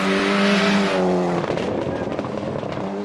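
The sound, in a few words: rally car driving sounds from the video game Richard Burns Rally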